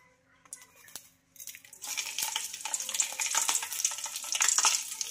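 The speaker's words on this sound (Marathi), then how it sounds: "जिरे छानपैकी तडतडलेले आहेत" Cumin seeds crackle in three spoons of hot oil in a kadhai, starting with a few faint ticks and then swelling into a dense, steady sizzle with sharp popping, close and fairly loud.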